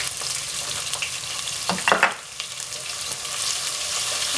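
Half a medium onion frying in a pan for a nimona pea dish, a steady close sizzle with a brief louder burst of stirring and crackle midway.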